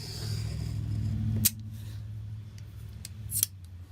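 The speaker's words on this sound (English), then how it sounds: "I'm going to use a metal ruler, and I'm going to use my craft knife, and I'm just going to cut the center out." A craft knife slices through pattern paper along a metal ruler for card making, a couple of short crisp cuts standing out over a steady low hum.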